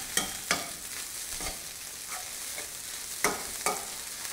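Thai-style fried rice with soy sauce and sugar heating in a pan, a soft, low sizzle broken by several sharp scrapes and clacks of a utensil stirring.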